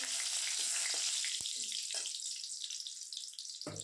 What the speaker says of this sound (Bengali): তেল দিয়ে দিলাম শুকনো লঙ্কা তেজপাতা